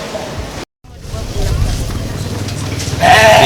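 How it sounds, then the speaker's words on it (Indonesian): Goats bleat amid a noisy outdoor background at an Eid al-Adha gathering at a mosque in Serpong, Indonesia, with a clear, loud bleat rising near the end; voices can be heard in the mix. "adalah kambing-kambing yang kita sediakan dan sudah dibeli semua oleh para jamaah"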